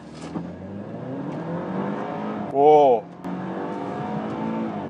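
A car engine revs hard toward a 7000 rpm redline and then eases off as the car brakes, with a steady engine drone, a brief high whine in the middle, and a short spoken exclamation.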